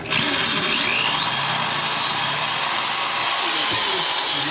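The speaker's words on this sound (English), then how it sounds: "let's just go to regular drill, which I think I'm in now" A high, steady whine of a hammer drill in regular drill mode runs continuously and loudly, with a rough grinding texture underneath as it bores into a hard wall.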